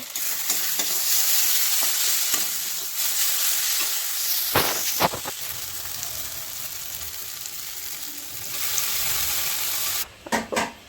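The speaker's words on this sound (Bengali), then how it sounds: "অল্প করে ঝাল ভাজা করেছি আর এটা ঝালে দেব" Small puti fish fry in a pan with a steady close sizzle, broken by scraping stirs and a few sharp utensil taps, ending in brief clatters.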